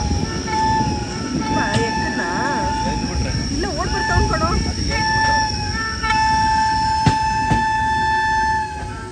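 A train starts moving on a long-distance run toward New Delhi, rumbling and rattling steadily under ongoing talk, with brief metallic squeals and a faint horn-like tone.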